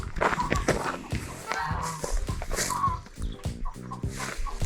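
Chickens cluck and cackle nearby in a busy, overlapping chorus on a free-range farm in Poland, with footsteps and a voice mixed in now and then.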